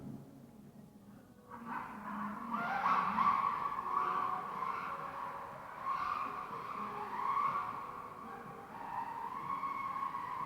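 An MJX C3 RC car drives on a painted floor, its motor whine rising and falling as the tires skid and squeal in long sweeps at close range.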